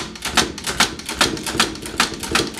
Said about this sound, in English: This lever on the side here, quite intriguing, is the backspace.